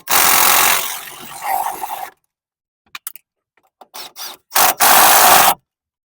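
An impact tool tightens the strut bolts and nuts on a Chevrolet Silverado during a front strut replacement, loud rattling bursts separated by silence and scattered metallic clicks, close by with no talking.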